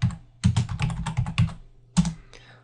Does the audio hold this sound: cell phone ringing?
no